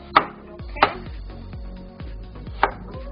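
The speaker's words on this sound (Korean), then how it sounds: "이렇게 또 얇은 두께로 썰어주셔가지고" A knife cuts thin slices of potato for mashed potato sandwiches, giving three sharp chops on a cutting board spread across a few seconds, close and clear with faint ringing between them.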